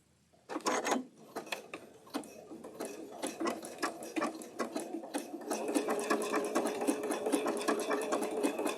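Sewing machine stitching circles on a quilt block with the presser foot pressure loosened: irregular bursts of whirring stitches that settle into a steady, continuous mechanical hum, fairly quiet and without talk.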